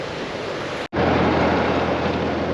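Wind and surf at a small private beach called Turtle Beach in East Arnhem Land, a steady broadband roar of wind buffeting the microphone over breaking waves, briefly cut off near the start and then continuing loud and unbroken.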